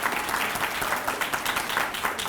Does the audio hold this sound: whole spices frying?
no